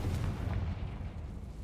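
Confringo explosive spell in Hogwarts Legacy, a deep booming blast with rumbling low impacts that rolls on and fades over a second or so.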